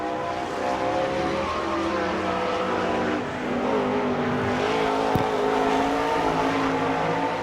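An All Star Circuit sprint car races a qualifying lap at Sarver, Pennsylvania, its engine roaring continuously at high revs around the dirt oval, steady and fairly loud with a brief sharp peak near the end.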